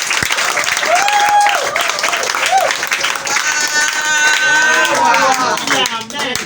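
A church congregation breaks into loud, dense applause, mixed with shouting and cheering voices and a rising sung or called-out tone over the clapping.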